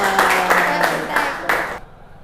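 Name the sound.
clapping in a classroom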